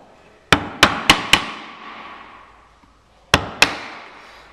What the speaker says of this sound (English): I'm going to come back from the other side and start chiselling out small pieces